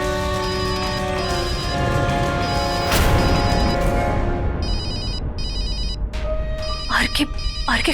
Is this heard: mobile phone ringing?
yes